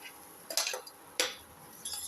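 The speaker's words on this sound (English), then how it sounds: "Put in the eggs." Eggs go into a tomato and ginger mixture in a cooking pan, with a few close clinks and scrapes of metal against cookware, two distinct bursts followed by a lighter clatter.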